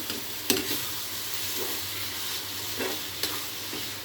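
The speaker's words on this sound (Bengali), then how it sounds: "এবার আমরা পাউডার মিল্কটাকে খুব ভালোভাবে মিক্স করে নিব শ্যামাইয়ের সাথে" Vermicelli and powdered milk being stirred together in a hot pan, a steady scraping, rustling stir over a continuous sizzle with a few sharper knocks of the spoon, close and fairly loud.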